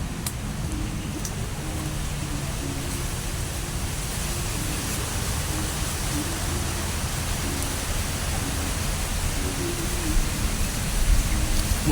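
Steady, dense hiss of heavy rain pouring continuously, loud and unbroken throughout with no talking.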